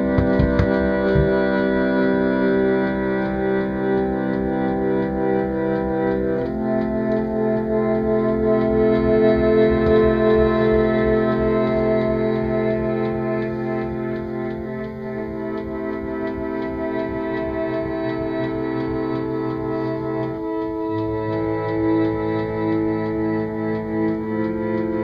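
Old organ playing sustained chords that shift every few seconds, a steady droning tone with a faint ticking pulse underneath, heard alone for about twenty-five seconds.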